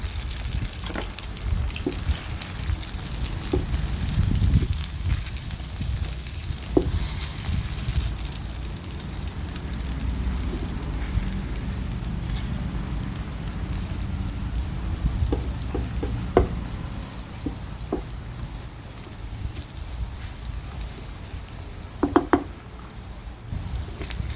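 Egg stir-fried in a pan with a spatula alongside pickled mustard greens, a continuous close sizzle broken by soft scraping and occasional sharp clicks of the spatula against the pan, no talking.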